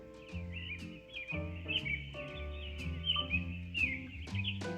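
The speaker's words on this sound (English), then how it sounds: "listen to the little birds chirping" Small birds chirp and tweet in quick, repeated bursts over a soft, steady background, a nature soundscape playing at low volume from a sound machine in a nursery.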